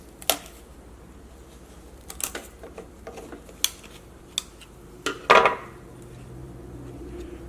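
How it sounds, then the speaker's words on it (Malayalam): A knife chops coconut into small pieces, giving sharp, separate hits at an uneven pace, about half a dozen strong ones, with one harder double strike near the end over a quiet room. "ഇങ്ങനെ തേങ്ങ കൊത്തിയെടുത്താൽ മതി"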